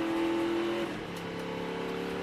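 A NASCAR Craftsman Truck Series race truck pulling back onto the track at the Milwaukee Mile during the 2023 Clean Harbors 175, its engine holding a loud steady drone, then shifting pitch as it accelerates away, with no talk.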